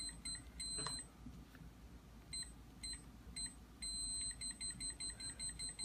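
An HFAS100BRM code lock sounds its alarm after repeated wrong code entries, giving a quiet series of short, high, evenly spaced electronic beeps with pauses between bursts, and no voices.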